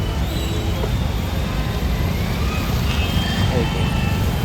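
Office-hour traffic jam on a road beneath a metro line in Gurgaon, a steady dense roar of idling and crawling vehicles with engine rumble and faint brake hiss throughout.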